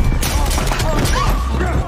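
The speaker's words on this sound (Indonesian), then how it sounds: "Baku tembak kembali terjadi antara Haris dengan para tentara bayaran." A film gunfight exchange with mercenaries: dense, loud bursts of gunfire and booming impacts packed into a short stretch, mixed with a voice speaking over the action.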